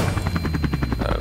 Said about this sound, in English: I'm just in the helicopter trying to keep it steady.